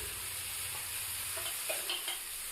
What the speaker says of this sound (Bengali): এবার খুন্তি দিয়ে সবজিগুলোকে ভালোভাবে নাড়াচাড়া করতে হবে